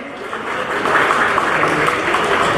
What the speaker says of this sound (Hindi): साथी के लिए जोरदार तालियां जी।